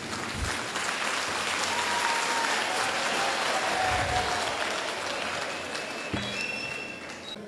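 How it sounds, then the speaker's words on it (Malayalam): Audience applause at a children's camp, a continuous broad clapping from a crowd, fairly loud and sustained, easing slightly near the end. "ഏതായാലും നിങ്ങൾ കയ്യടിച്ചതിൽ നന്ദിയുണ്ട്"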